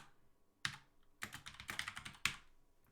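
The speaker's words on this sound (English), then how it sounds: "Now my typing's really starting to fall apart." Bursts of rapid clicking keystrokes on a computer keyboard during a programming lecture, close by, in uneven clusters separated by short pauses.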